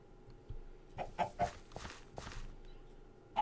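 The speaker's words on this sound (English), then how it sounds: "That is the sound of chickens." Chickens clucking in a home-building video game, a few short separate clucks over about three seconds, fairly faint and alone with no talk.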